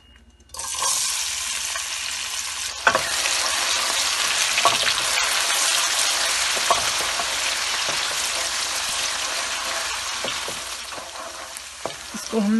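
Onions frying in hot oil for a dhaba-style handi chicken give a loud, steady sizzle that bursts in suddenly and holds, with occasional clinks of a stirring spoon.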